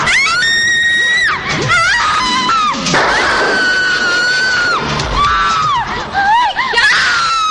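A person screams loudly and continuously, high shrill wails rising and falling over several seconds with strained breathy breaks, set in a night-time scene from a 2000 Bollywood horror film.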